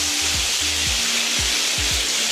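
Whole river fish frying in hot oil: a steady, loud sizzle fills the clip, with a few low thumps and scrapes from the pan, and no talking.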